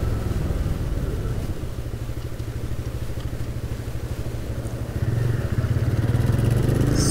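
TVS Raider 125 motorcycle riding on a road and making a U-turn near a toll gate, its mid-pitched single-cylinder engine droning steadily up close and swelling slightly toward the end.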